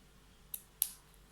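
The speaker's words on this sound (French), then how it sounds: "je vais couper ici pour pas que ça me dérange quand je vais ouvrir la robe. Donc, je prends mes petits ciseaux" Two crisp snips from small scissors cutting thread on a wooden bead doll, close and isolated against quiet background.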